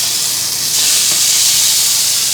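Shrimp hit a smoking hot pan and set off a loud, close, continuous hissing sizzle that swells slightly after the first moment and holds steady, with no talking.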